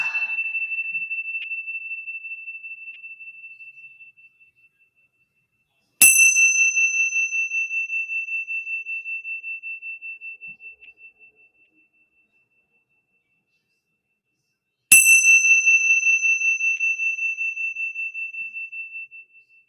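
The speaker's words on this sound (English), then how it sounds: "Let's go ahead and get started with our mindfulness bells this morning." A mindfulness bell struck three times at a morning session, each strike a clear, bright ring that sustains and fades slowly into silence before the next, with no talking.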